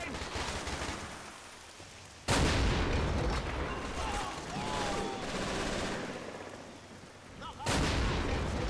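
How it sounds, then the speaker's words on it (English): A Pak 40 anti-tank gun fires in the Men of War: Assault Squad 2 battle game, heavy booming shots landing over continuous crackling battlefield noise, with two sharp, loud blasts standing out. "And Pack 40's firing at me."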